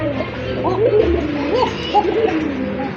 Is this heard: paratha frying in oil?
no